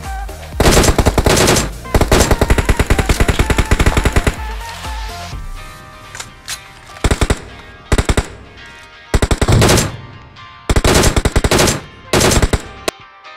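Automatic gunfire in the mobile battle royale game BGMI rattles in loud rapid bursts, one long sustained stream followed by several short separated volleys.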